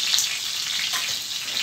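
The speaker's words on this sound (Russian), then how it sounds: "масло брызгает" Hot oil splattering and crackling in a frying pan as meat-filled chebureki fry, a dense, steady, close sizzle with no talking.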